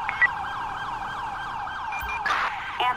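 An ambulance siren from the GTA V video game wails in a rising and falling cycle, loud and continuous, with a few short bursts of engine and street noise near the end.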